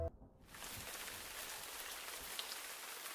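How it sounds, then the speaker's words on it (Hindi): Heavy rain pours down steadily at night, a dense even hiss of drops striking surfaces that fills the whole stretch after a short quiet gap, with no talk. "तेज बारिश।"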